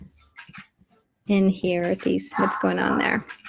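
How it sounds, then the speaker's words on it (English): Dogs bark and whine in a loud burst of close, harmonic yelps, heard together with someone speaking. "sorry about the dogs."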